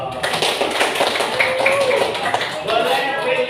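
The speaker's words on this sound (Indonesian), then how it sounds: "Kasih tepuk tangan dong." A classroom of students claps their hands together in a busy, uneven patter of many hands that runs throughout, with voices chattering underneath.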